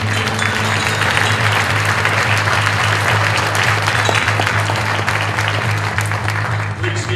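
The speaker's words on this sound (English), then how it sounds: "A little round of applause for the house, sir." An audience at an illusionist's college show applauds, with continuous loud clapping over a low steady hum throughout.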